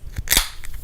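A can of Budweiser beer cracks open with a sharp pop and short fizzy hiss, close and loud, a single quick opening with no talk.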